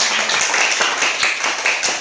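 Students in a classroom clap for a discussion group as they come forward, a fairly close, rhythmic round of applause with faint voices underneath.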